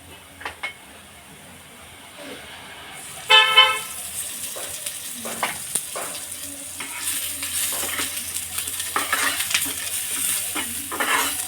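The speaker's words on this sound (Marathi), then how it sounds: "यामध्येच हा उभा चिरलेला कांदा भाजायचा आहे इथे थोडंसं आपण तेल टाकून घेणार आहोत" Sliced onion fries in oil with toasting coconut in a pan for Maharashtrian misal, sizzling and stirred with scraping clatters, rising louder and denser after a sharp clank partway through; faint background voices and street noise sit underneath.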